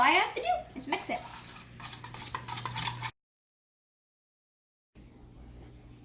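A utensil stirs and clinks against a bowl while a salad dressing with a pinch of oregano is mixed, busy scraping and tapping for a few seconds, then silence and a faint room hum.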